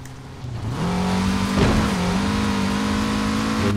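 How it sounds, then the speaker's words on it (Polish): A Ford Ranger engine drones steadily in a Forza Horizon 4 race, its pitch rising and holding near and loud, with a brief surge and tire-like squeal in the middle. "Coś mnie goni tam. To jest dobre auto. To jest ten Ford Ranger,"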